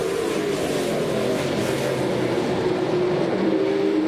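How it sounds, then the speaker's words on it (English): NASCAR Pinty's Series race cars on a street circuit at Exhibition Place in Toronto drone past at speed, engines roaring continuously with a steady high-pitched tire squeal across the whole stretch. "You can hear those General tires just screaming for traction as Andrew Ranger puts his car through the pa"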